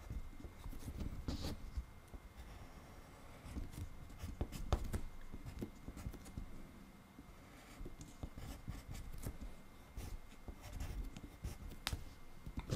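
A lead pencil scratches and scribbles on paper nearby, in quiet irregular strokes with short pauses, and no one speaks.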